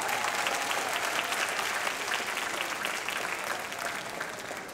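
An indoor audience at a senior women's pageant applauds the contestants with sustained, even clapping that fades slightly toward the end.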